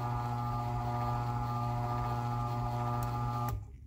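An old Chamberlain/LiftMaster/Sears V-belt drive garage door opener runs with a steady motor hum and whine, its limit nuts traveling along a threaded shaft, then cuts off abruptly near the end with a brief clunk.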